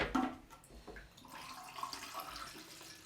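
Water runs from a tap into a container while developing film at home, a steady rushing splash with a few brief bumps early on, fairly close and without talk.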